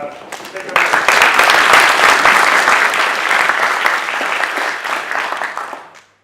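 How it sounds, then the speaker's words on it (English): A conference audience at Ruby Unconf 2019 warmly applauds speaker Andreas Finger, clapping that bursts in loud after a brief lead-in with voices, stays strong, then fades out toward the end. "give him a warm round of applause"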